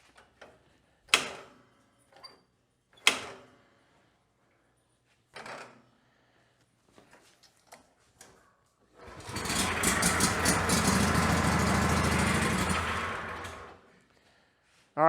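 A Great Dane lawn mower with bad fuel is pulled and its engine catches, running loudly and roughly for a few seconds before cutting off, after scattered knocks and clunks of handling nearby.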